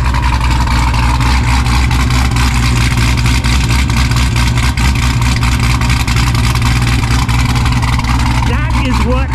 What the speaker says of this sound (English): Mike is just about to take his car off the trailer, the ZR1